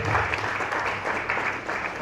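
A church congregation applauding in worship, a dense, steady clapping that fills the room for the whole stretch.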